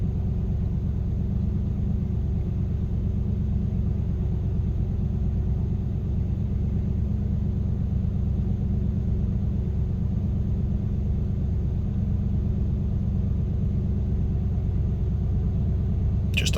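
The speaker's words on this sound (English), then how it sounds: "I always like to do a cold start so that folks know how a vehicle behaves at all operating temperatures" A 1995 Ford Bronco Eddie Bauer 4x4 with a 351 V8 and 103,000 miles idles after a cold start, a steady, close, low engine rumble that holds evenly throughout with no voices.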